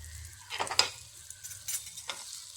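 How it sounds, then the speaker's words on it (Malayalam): Aloe vera pieces sautéing in oil for a pickle, with faint, intermittent sizzling bursts and soft spoon scrapes against the pan, quiet and close. "ഇതിട്ട് എണ്ണയിലൊന്ന് നന്നായിട്ട് വഴറ്റാം."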